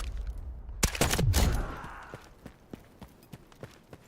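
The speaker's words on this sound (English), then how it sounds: "I guess that's what we hear, just the AI shooting crazily at some bots" AI soldiers in Delta Force firing at bots: a few sharp, loud close gunshots with a whizzing tail, then a string of quieter, spaced shots rattling in the distance.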